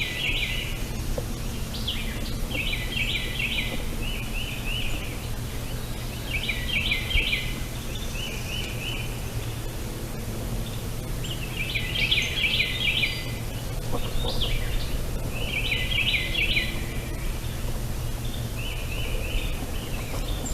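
Outdoor birds call repeatedly in clustered bursts of bright chirps and trills, several groups spaced every few seconds, over a low steady background rumble, with no talk.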